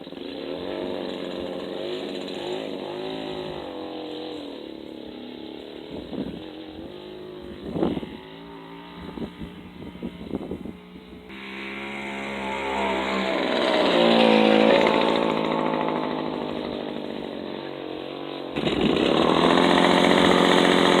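A 1958 Wards Riverside moped's small two-stroke engine, fitted with a tall dirt tire, sputters to life after a run-along start, then buzzes and revs loudly up and down, rising and falling close by.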